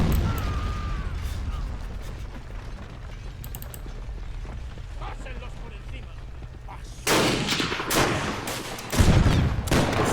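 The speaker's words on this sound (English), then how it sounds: "finally, some of our arty is landing on top of the enemy" Artillery shells landing in a Chaco War strategy game mod, deep booming impacts and rumbling explosions over a continuous battlefield din, with heavier blasts near the end.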